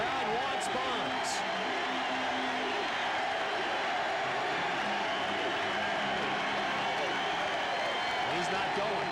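A baseball stadium crowd roars steadily for Barry Bonds at a 1993 Padres–Giants game, a broad, continuous wash of cheering that a play-by-play commentator talks over.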